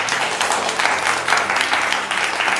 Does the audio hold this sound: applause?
yes